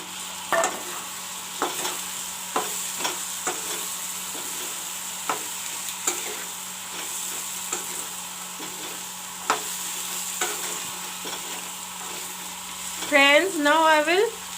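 Peas frying in a pan with broccoli and potato, stirred with repeated scrapes over a low steady sizzle, close up, followed near the end by a brief tonal clatter or ring.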